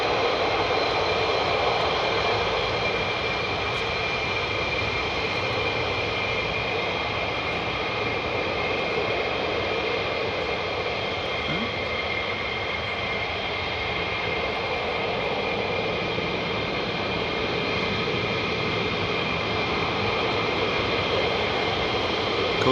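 Fighter jets at RAF Lakenheath roar steadily overhead, one loud, continuous jet-engine drone holding without a break throughout.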